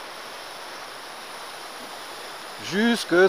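Water runs in a steady, close hiss as a freshly repotted bonsai's substrate is watered, and a voice cuts in near the end.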